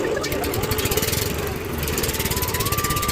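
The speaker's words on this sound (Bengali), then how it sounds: "এই যে মাঝি ভাই স্টার্ট করলো, পট পট পট পট পট পট করে শব্দ হচ্ছে।" A small river boat engine on the Gorai river in Kushtia is cranked into life, then putt-putts loudly and close by in a rapid, steady, even rhythm.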